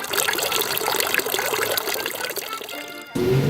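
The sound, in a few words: water running in a Basel street fountain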